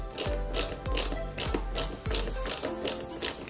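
A small screw driven into a part of a 1/8-scale Mercedes-Benz 300 SL model kit, heard as a close, crisp run of evenly spaced ratcheting clicks from the screwdriver, about three per second, with no talking.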